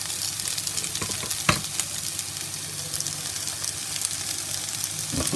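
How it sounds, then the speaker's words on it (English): Noodles stir-frying in a hot wok alongside crispy beef and pak choi, a steady loud sizzle with a sharp clank of a utensil partway through. "So now we're going to go in with some of the noodles"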